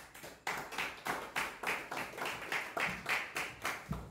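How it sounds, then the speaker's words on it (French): A church congregation applauding, about a dozen evenly spaced, rhythmic unison claps at roughly three per second, fairly quiet and somewhat distant, with no speech over them. "Applaudissez pour le Seigneur."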